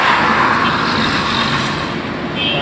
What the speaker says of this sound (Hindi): अभी मैं हूँ सुपर हाईवे पर, गाड़ी भी बहुत चल रही है इसलिए शोर भी होता